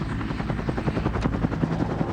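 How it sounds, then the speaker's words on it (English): A Bell UH-1 Huey helicopter flying with a steady, loud rotor thump and turbine whine, the blade beat pulsing rapidly and continuously throughout. "The UH-1 was also the world's first dedicated attack helicopter."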